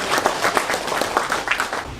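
Audience clapping to welcome guests at the 16th Nogeun-ri Peace Prize award ceremony, a brief, fairly loud burst of applause filling the hall.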